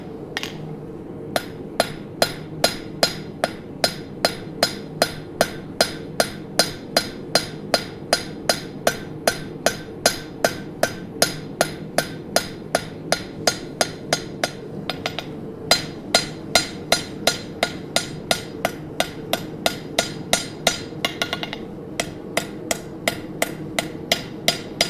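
Steady, evenly spaced hammer blows ring out one after another in a blacksmith shop as a baroque finial is forged, loud and close with brief pauses, no talking.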